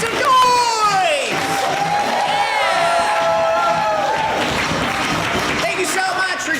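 An audience at an improv comedy show cheers, whoops and applauds loudly and continuously, a full crowd roar with shouted voices rising above it.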